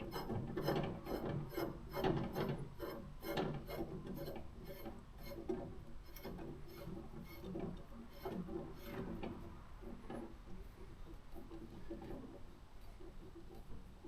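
A hand ratchet clicks rapidly while cranking a fastener down on a mini jeep's steering upgrade, a steady run of sharp, close metallic pawl clicks that slows and thins out toward the end.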